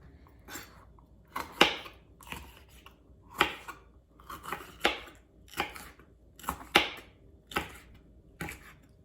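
A knife chops bell peppers on a cutting board in sharp, irregular strokes, some in quick pairs, about a dozen crisp chops close up over a quiet background, with no talking.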